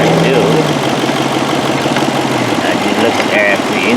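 A car engine idles with random cylinder misfires and faults on the number 5 and 7 coils, running as a steady close rumble with uneven pulses, while a person talks over it.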